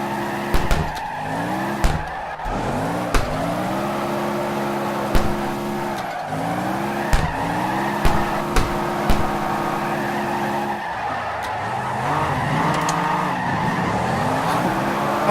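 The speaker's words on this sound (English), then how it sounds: "Backfiring sounds fucking awesome." A drifting car in CarX Drift Racing revs hard while its tires squeal and skid in long repeated slides, with sharp popping backfires between the slides; loud and continuous with no talking.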